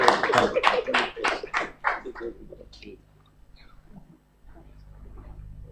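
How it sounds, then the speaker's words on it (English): A conference audience at a criminal law review session gives a short burst of applause that thins quickly into scattered claps, followed by near-silent room tone. "Please let us give him another round of applause."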